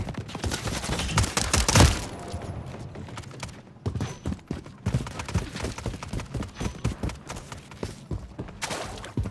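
Paintball gun fire in a Call of Duty Modern Warfare 3 match, a rapid run of sharp popping shots mixed with thuds and game effects, fairly close, with a brief low voice in the background.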